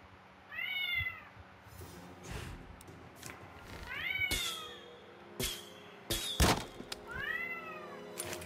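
A cat in the South Park: The Stick of Truth video game meows three times, each a clear rising-falling cry, set against game ambience with scattered thumps and clicks between the calls.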